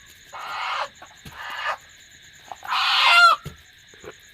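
A chicken held for a sacrifice ritual gives several loud, close squawking clucks in short bursts, with a longer, harsher cry near the end and quiet pauses in between.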